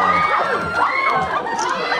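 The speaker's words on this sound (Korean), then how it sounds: "이렇게 극장에서 환호성도 지를 수 있고" A cinema audience at a stage greeting for the film Broker in a CGV theater in Wangsimni, Seoul, cheers loudly with high-pitched shrieks and shouts. The din is continuous and close.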